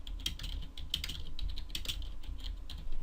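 Close, quick keystrokes on a computer keyboard as a folder name is typed, with light irregular clicks over a faint low hum.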